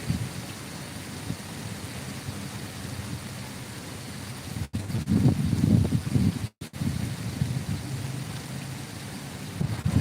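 Heavy rain pours down outdoors as a steady, dense roar that swells louder midway, broken by two brief dropouts, with no talking.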